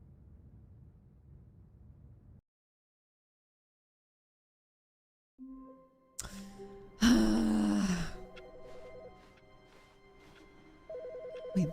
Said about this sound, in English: Wait, the phone.